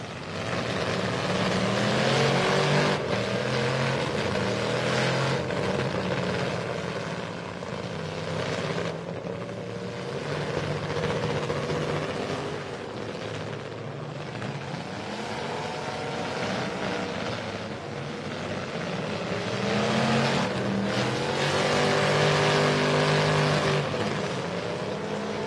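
A race car engine, said to have nearly locked up the day before, runs roughly at a dirt track, a steady uneven drone with other engines roaring underneath throughout.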